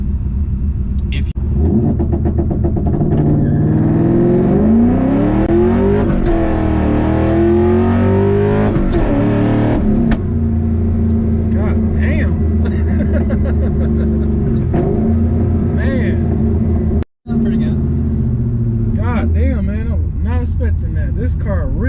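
A 2004 Ford Mustang Mach 1 with a five-speed manual rumbles from inside the car, its engine revving up and down through gear changes in loud, rising sweeps, while people talk over it during the drive.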